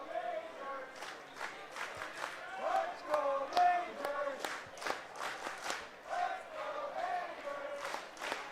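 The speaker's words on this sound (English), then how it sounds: "A Let's Go Majors chant just beginning in this crowd." A baseball crowd at an IBL game between the Hamilton Cardinals and London Majors chants in a steady rhythmic pattern, loud and close, with claps and cheers mixed in.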